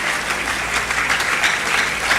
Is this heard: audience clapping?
yes